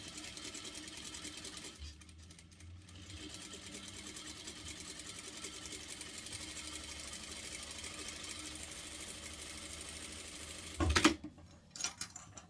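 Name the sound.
sewing machine topstitching the hem of a cloth diaper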